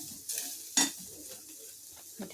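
Coriander and ground masala stirred into hot oil in a pan: a soft sizzle with brief scraping stirs and a sharp clink of the utensil, close and fairly quiet, no voices.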